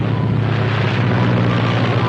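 A steady, loud drone of an airplane engine in flight, constant and unbroken with a low humming tone.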